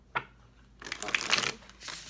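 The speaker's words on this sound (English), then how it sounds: "This will be our last shuffle." Tarot cards being shuffled by hand in a quiet room: a brief riffle at the start, then a louder, longer run of papery flicking and sliding that trails off, with no talk over it.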